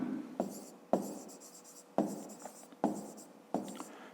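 A pen writes a number by hand on paper, five short scratchy strokes at irregular intervals, each a quick close scrape fading out, with no talk.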